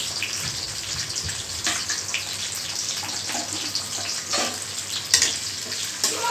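Ginger and garlic paste frying in hot oil while pilau is being made, giving a steady, close sizzle with a few brief scrapes and clinks from stirring and no voices.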